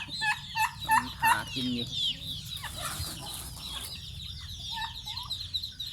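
Farm ducks and chickens, fed a mix of banana stem and rice bran, cluck and call in short bursts close by while a person speaks over the flock.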